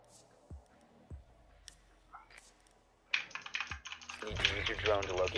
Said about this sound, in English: I hear you furiously clicking in the background